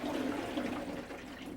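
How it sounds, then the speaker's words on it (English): Sealed balance ring inside the tub of a Maytag Neptune front-load washer, sloshing as the tub is turned by hand: a steady, close watery swish that holds for the whole short moment, with no voices. "It's the sound of the sealed balance ring that helps your washer run smoothly and efficiently."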